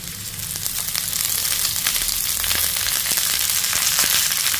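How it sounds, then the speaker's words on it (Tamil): Chopped pirandai (veld grape) frying in sesame oil in a kadai, a steady dense sizzle with occasional stirring clicks, close and continuous, no voices. "அதே கடாயில் இப்போ நம்ம நறுக்கி வச்சுருந்த"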